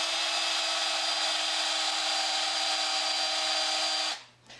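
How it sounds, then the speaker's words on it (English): A power drill with a 3/16 bit bores into angle iron, a loud steady whine held for about four seconds before it stops abruptly, leaving a faint low hum. "we're going to start with a 3/16 drill bit. That's for the top rivets."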